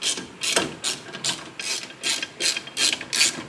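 A ratchet wrench with an extension turns a bolt on a Honda Civic, giving a rhythmic series of about nine quick clicking strokes, close and distinct with no talk.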